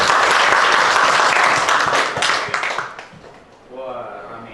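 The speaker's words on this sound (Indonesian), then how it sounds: "Tepuk tangan buat semuanya dulu." A school class breaks into loud, dense clapping up close that fades out over a few seconds, after which a teacher's voice speaks over the quiet room.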